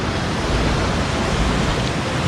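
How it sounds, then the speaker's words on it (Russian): Strong ocean waves surging against an island shore at midday, a loud, continuous broadband roar of surf with no voices. "Как правило, к полудню волны разыгрываются совсем сильно."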